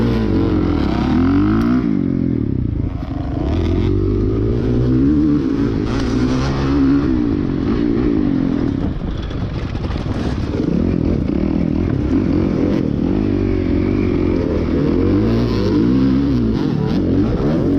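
Motocross motorcycles racing in the Moto 2 heat of the 40A class, engines droning loud and constant with rising and falling revs and gear changes from several bikes close by, with no talking.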